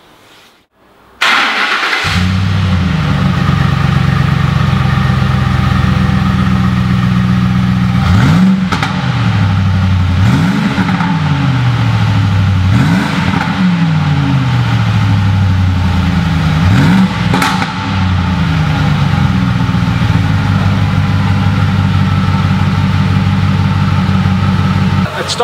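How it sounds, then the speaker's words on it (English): Ford F-150 Harley Davidson pickup with standard exhaust fires up first turn of the key after brief quiet, settles into a loud, steady idle, then gives several short rising revs that drop back, close and up front. "we'll fire it up now, let you hear the engine"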